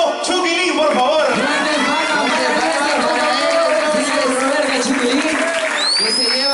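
Audience at the La Voz Venezuela singing contest clapping and cheering loudly for a singer, dense sustained applause mixed with crowd voices and a host speaking over it, a whistle-like tone rising near the end.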